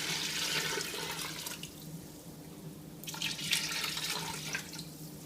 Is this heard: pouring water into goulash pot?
yes